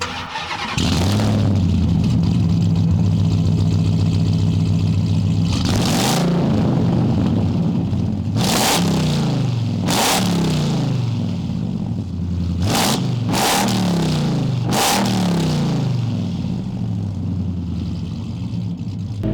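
A Ram TRX pickup truck with billet guards drives on a gravel dirt road, a loud, close engine rumble that rises and falls repeatedly as it revs, with bursts of crunching and rattling from the road.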